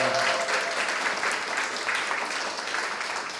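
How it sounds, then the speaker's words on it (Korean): A concert audience claps steadily before an orchestra performs Swedish Rhapsody, a brief, moderately loud burst of applause in a hall. "여러분 박수 부탁드리겠습니다"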